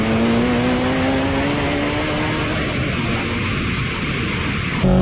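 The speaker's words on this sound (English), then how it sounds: "my buddy. 900 horsepower Skyline." A 900-horsepower Nissan Skyline drives past with a loud, sustained engine drone whose pitch slides gradually upward, heavy broadband road and wind roar underneath, and a sharp burst right at the end.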